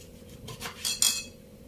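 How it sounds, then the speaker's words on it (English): A knife cuts a slice of lemon over baked fish, giving a few soft, quick clicks and taps of the blade against the board within a second, fairly close and otherwise quiet. "Just cut some slice of lemon on top of everything."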